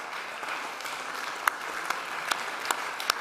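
An audience claps after a concert at the Bonn Humboldt Award Winners' Forum, a moderate, even patter of applause with a few sharper individual claps standing out near the middle and end.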